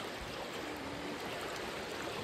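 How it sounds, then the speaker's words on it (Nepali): A river stream flows steadily nearby, a continuous broadband rush of water with no voices over it. "बिच सबै खोला बग्दैछ"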